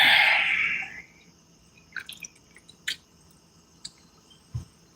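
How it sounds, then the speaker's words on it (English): A soda is drunk up close: a brief fizzy hiss at the start, then quiet gulps, sips and small wet clicks spaced over a few seconds. "I don't know why I'm drinking this other than I'm thirsty."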